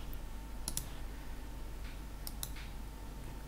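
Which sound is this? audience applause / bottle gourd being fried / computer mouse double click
computer mouse double click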